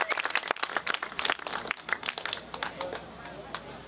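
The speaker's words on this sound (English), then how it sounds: "So let's give a round of applause for each of them." Scattered audience clapping at an outdoor arts and apples festival during a ribbon cutting ceremony, uneven claps close by that thin out and fade toward the end.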